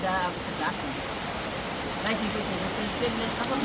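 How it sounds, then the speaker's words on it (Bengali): Heavy rain pours down in a constant close wash of drops on surfaces, steady and unbroken from start to finish. "পরিমাণে বৃষ্টি হইতেছে"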